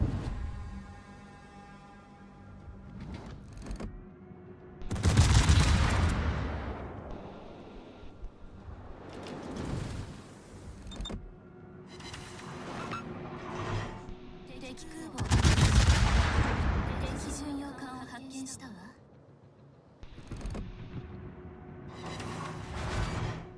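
Naval guns boom in heavy salvos during a World of Warships battle, two big loud broadband blasts about ten seconds apart with smaller shots and rumble between, over a steady hum.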